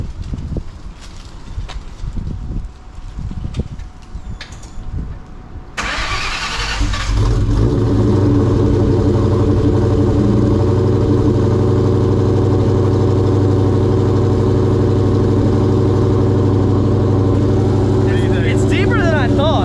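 The Terminator Cobra, fitted with a Borla Stinger exhaust, fires up after a few moments of quiet and settles into a loud, deep, steady idle rumble that holds for several seconds, with a voice heard briefly near the start.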